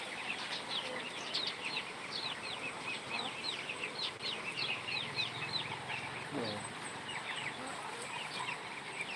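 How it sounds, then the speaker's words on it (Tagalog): Native chickens in a backyard farm cluck and chirp close by in a run of short, repeated calls, with a steady outdoor hiss behind them and a brief quieter stretch near the end. "Ito yung native chicken na tagalimlim ko sa Rhode Island."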